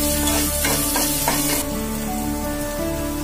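Ginger garlic paste hitting sautéed onions in hot oil for egg fried rice, a loud close sizzle with a few stirring scrapes early on, steady under a low background hum.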